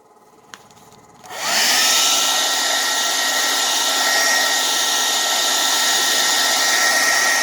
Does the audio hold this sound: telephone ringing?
no